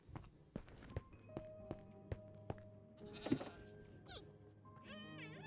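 Goat bleats in a video game sound near the end over a scatter of sharp thumps and synthetic tones, all fairly quiet.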